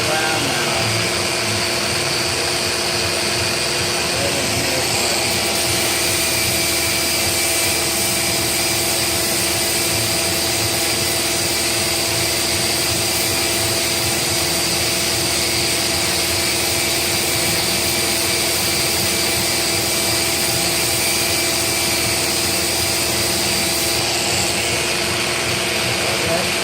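A power tool with an 80 grit disc set to grind mode runs continuously at a steady, loud whine with a dense broadband hiss, holding constant throughout with no pauses.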